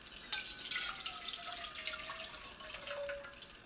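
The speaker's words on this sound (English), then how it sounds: "I'm going to pour the juices into another pan." Meat juices for miso ramen being poured from one pan into another, a thin trickling liquid stream with light drips and splashes, fairly quiet and close, with no talking.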